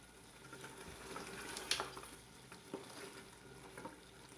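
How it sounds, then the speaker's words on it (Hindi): Mutton paya trotters fry in a pot over a medium flame, with a soft, steady sizzle and occasional stirring scrapes close by. No one speaks. "अभी भी हम मज़ीद इसकी 2 से 3 मिनट तक बुनाई करेंगे।"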